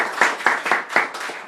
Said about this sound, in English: Let's hear a round of applause for them